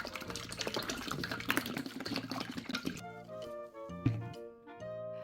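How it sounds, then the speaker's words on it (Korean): Two liters of bottled water poured into a kimchi brine made with strained rice-flour paste, a steady liquid splashing and trickling for the first few seconds, then quieter with drips and background music. "생수 2리터도 부어줍니다."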